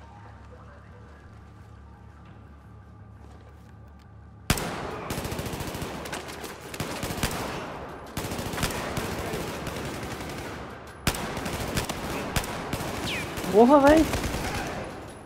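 Battlefield 4 gunfire erupts after a quiet stretch: loud bursts of automatic fire and sharp shots in repeated volleys, with a player's voice talking over the action.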